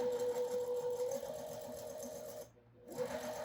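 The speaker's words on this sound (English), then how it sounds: "Sew a couple stitches." A sewing machine stitching curved quilt block pieces runs with a steady, close mechanical whir, then stops briefly and starts again, with no talking.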